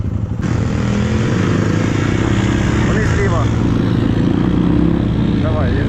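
A close, loud KAYO TSD 110 enduro motorcycle engine runs steadily throughout, its pitch rising and falling as the throttle is worked, with faint voices underneath.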